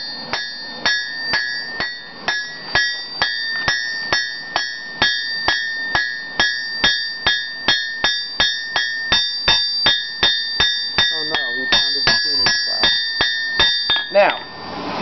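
Blacksmith's hammer striking hot steel on an anvil while shaping a leaf ornament, a steady run of about thirty bright ringing blows at an even pace, close and loud with no talking.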